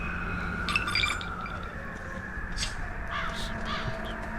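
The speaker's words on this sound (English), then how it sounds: "the radar does pick those birds up as well, because they are infected" Infected crows in the zombie video game ZombiU cawing in repeated harsh calls over a steady ambient game drone, with no talking.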